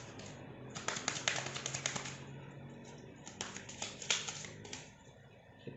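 A deck of tarot cards is shuffled in repeated bursts of crisp, rapid riffling clicks, near and fairly quiet, with short pauses between the passes.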